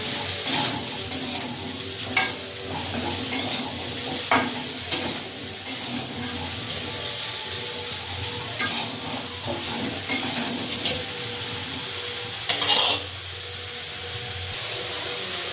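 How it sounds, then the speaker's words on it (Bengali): Raw mango pieces with turmeric and salt are stirred in a pan, with a constant sizzle broken by repeated sharp scrapes and knocks of a spatula against the metal, close up and without talk. "অল্প একটু হলুদ দিয়ে এবারে আমটা ভালো করে নাড়াচাড়া করতে থাকবো"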